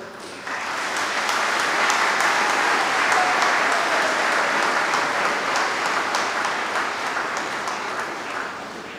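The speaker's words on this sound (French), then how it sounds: "Veuillez vous lever quand vous applaudissez un peu, s'il vous plaît." Church congregation at an Advent Sunday Mass in Brazzaville rising and applauding, a reverberant wash of many hands that swells in quickly, holds for several seconds, then gradually fades.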